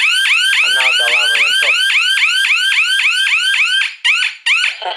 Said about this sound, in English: now the alarm